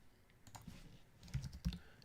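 A few faint keystrokes on a computer keyboard while entering records into a FileMaker database, with soft, quiet clicks growing slightly louder toward the end.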